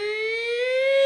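Electric guitar played to mimic a siren, a sustained bright tone with rich overtones that bends slowly upward in pitch, loud and unaccompanied.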